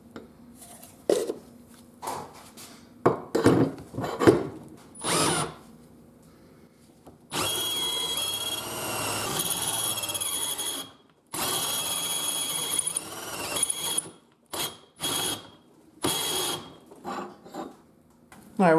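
A power drill turns a reamer to enlarge a hole on a Jeep YJ, loud close whirring bursts of a few seconds each, with two longer sustained runs between short stops.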